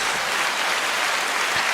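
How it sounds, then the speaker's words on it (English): A studio audience claps for a talk show, a dense, steady round of applause that fills the short stretch at full strength with no voices over it. "Give yourself a round of applause"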